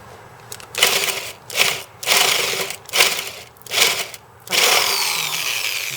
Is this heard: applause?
no